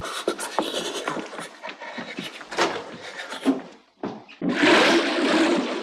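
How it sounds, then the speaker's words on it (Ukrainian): A toilet is flushed in a French comedy film scene. Busy scrapes and clatter lead into a loud, close rush of water that swells and keeps pouring to the end. "Да что этот идиот без конца воду спускает?"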